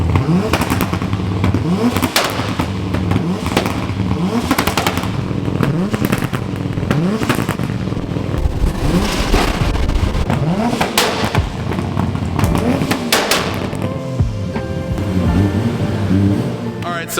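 A Toyota JZX90 engine revs hard and repeatedly with anti-lag, crackling pops and bangs between throttle blips, loud and close throughout.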